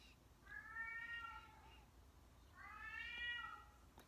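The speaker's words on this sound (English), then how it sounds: "Do you guys hear my cat?" A house cat meows twice, faintly and at a distance, each call a drawn-out whining note separated by a pause, over a quiet room background.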